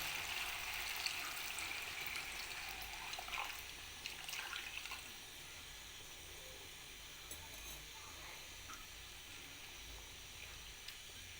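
Water poured into a pot of cooking Lahori daal gosht, a hissing, splashing flow that is strongest at the start and then settles into a softer sizzle with faint bubbling.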